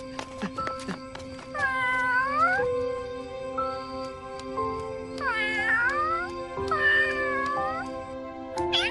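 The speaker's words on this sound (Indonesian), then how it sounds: "Kucing pintar, Tutuku." A cat meows three times up close, each call long, drawn-out and wavering, with short pauses between.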